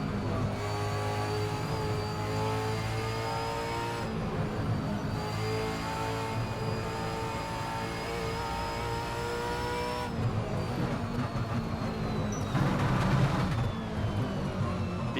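A race car engine in Assetto Corsa on the laser-scanned Bathurst circuit, revving steadily through rising and falling gear pulls with harsh, buzzing tones, with a tire squeal near the end, mostly free of talk.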